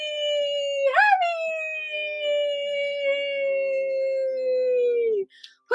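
A single long, sustained howl-like voice holds a steady wavering pitch for several seconds, imitating a siren, then drops off and a brief sound follows.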